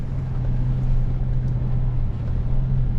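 A Toyota Hilux without lockers climbs an offroad track, its engine laboring in a steady low drone with continuous rumble, close and unbroken throughout.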